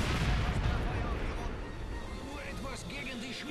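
Mortar fire in Company of Heroes 2 booms with heavy low thuds and rumbling blasts early on, fading as someone talks over the battle.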